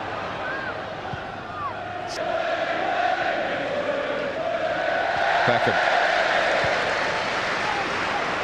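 A football stadium crowd during a Manchester United match against Spurs roars and cheers in a broad sustained wash that swells midway, under a commentator's voice.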